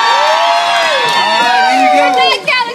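A crowd at the Calico stage show cheers and whoops loudly, overlapping shrill yells and shouts rising together before trailing off near the end.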